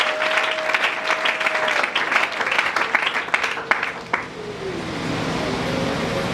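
Church congregation at a French and Lingala worship service applauding together, dense, lively clapping for about four seconds that then cuts off, leaving a steady room hum with a faint tone.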